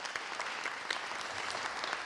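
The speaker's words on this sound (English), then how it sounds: "Let's give them all a round of applause" Steady, dense applause from an audience at an Illinois state budget signing event, honoring budget negotiators; many hands clapping evenly and moderately loud for the full stretch with no talk over it.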